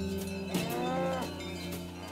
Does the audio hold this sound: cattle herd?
yes